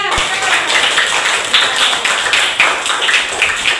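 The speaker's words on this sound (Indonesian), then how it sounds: "kasih tepuk tangan untuk kelompok 3" Classroom students clapping for a presenting group during a religious studies lesson, close and fairly loud, with uneven rhythmic hand claps and voices talking over them.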